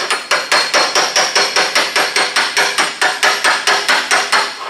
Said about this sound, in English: and then I'm going to take my hammer